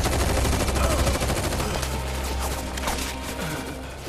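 Shinra soldiers firing in Final Fantasy VII Rebirth, a dense, continuous rattle of automatic gunfire over a low rumble, close and loud throughout.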